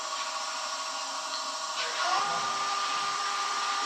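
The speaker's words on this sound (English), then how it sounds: "I want this lathe to go faster." A wood lathe motor runs as a steady, loud whine during a club spindle-turning demonstration, its pitch rising partway through as the speed increases, with a faint voice underneath.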